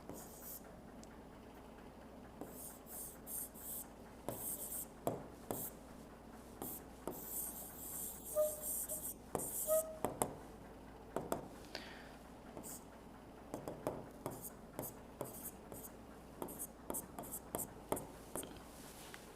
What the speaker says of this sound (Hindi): यहाँ पे साफ साफ लिख रहा हूँ